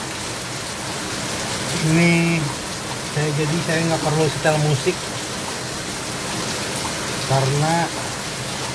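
Night rain falls steadily, a continuous soft hiss spread evenly throughout while a person talks over it at close range.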